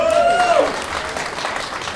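Steady applause from a talk show audience fills the whole stretch, with a brief whistle-like tone near the start fading out.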